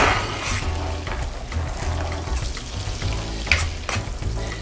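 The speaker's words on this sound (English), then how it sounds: "what I normally do when I'm sauteing the onions and peppers" Onions, peppers and garlic sauteing in a hot pan, a steady close sizzle with occasional stirring scrapes throughout, no talking.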